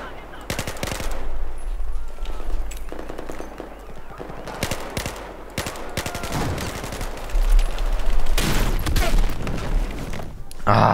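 Rapid bursts and booming blasts from a Battlefield 4 multiplayer firefight involving an airburst grenade launcher: dense crackling gunfire with heavy thumping explosions, loudest toward the end, and a voice speaking partly over the action.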